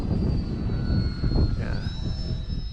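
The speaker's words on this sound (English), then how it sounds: "it's a fun plane to fly" An FT Freedom Fox V2 radio-controlled plane flying in a light breeze, with a thin high motor whine that holds steady, then rises in pitch, over wind rumble and faint nearby voices.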